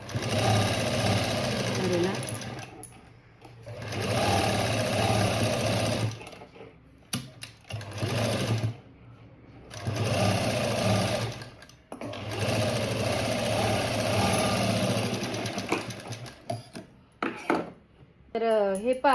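A sewing machine stitches a lace border onto a blouse made from a sari border, running in several steady whirring bursts of a few seconds each, separated by short pauses.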